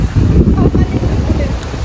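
Strong wind blows at a viewpoint in the Nagasaki Global Garden, a loud, steady, gusting rumble buffeting the microphone throughout.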